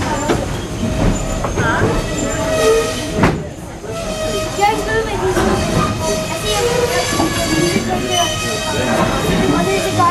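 A Tweetsie Railroad train rolls along with steady wheel rumble, clacking and metallic squeals as it slows to a stop, a loud continuous mechanical sound with a brief dip partway through.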